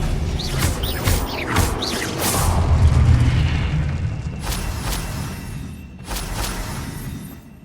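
Spell blasts and booming impacts from Confringo and other combat spells in the Hogwarts Legacy video game, several loud bursts with rumbling low thuds in a busy fight mix, including a heavy boom midway.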